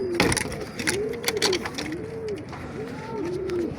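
Pigeons coo in a steady series of soft, rolling calls close by in a loft, with faint clicks and rustling mixed in.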